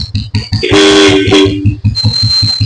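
A Royal Enfield Bullet motorcycle horn honks loudly in a sustained blast, cut briefly in the middle, over the thumping engine idle running underneath.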